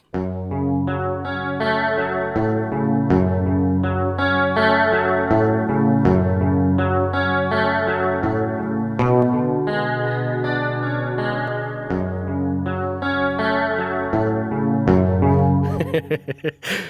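"80s karate" synth preset from the Nuclear plugin: a bright, chorused, slightly distorted synth playing a sustained melodic phrase over deep bass notes, steady and loud, ending in a brief noisy swell.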